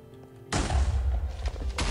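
Detonated explosives going off in Minecraft: a sudden loud booming burst followed by rumbling and a second hit near the end, heavy in low end, with no talk.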